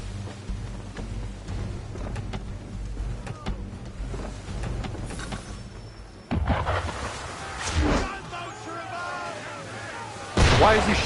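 Ship cannons firing in Assassin's Creed III, with scattered booms under talk and louder heavy blasts landing nearby toward the end.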